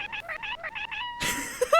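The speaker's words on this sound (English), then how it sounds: "I love the little cat sounds" A small cat gives a quick series of six or seven short, bright meows in a steady rhythm, close and clear, followed by a louder burst of mixed game sound.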